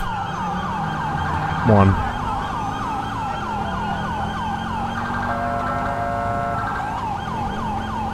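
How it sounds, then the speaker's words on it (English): A wailing police siren in the video game LSPDFR sweeps up and down continuously over a steady vehicle engine hum, loud and close, with a brief voice in the middle. "They haven't got the fourth siren, my favourite one, which is annoying."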